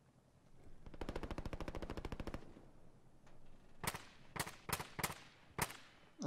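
Gunfire in a video game firefight heard from a distance: a rapid, evenly spaced burst of automatic fire, then a pause and several separate single or short-burst shots, moderately faint.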